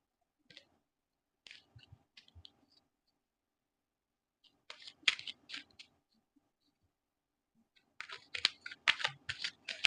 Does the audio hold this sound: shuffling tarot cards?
yes